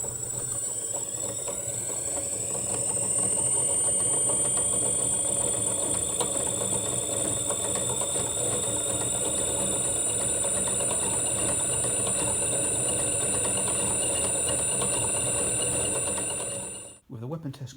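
A belt-driven weapon on a combat robot spins up during a test run and holds a steady, close, high mechanical whine with engine-like hum for about sixteen seconds before stopping abruptly.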